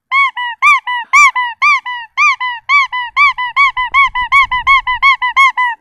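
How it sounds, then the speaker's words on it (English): A squeaky toy shaped like McDonald's fries squeezed over and over, rapid honking squeaks in a quick steady rhythm, loud and close. "it's a squeaky McDonald's toy."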